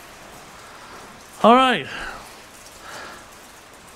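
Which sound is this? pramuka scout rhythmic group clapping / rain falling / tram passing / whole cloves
rain falling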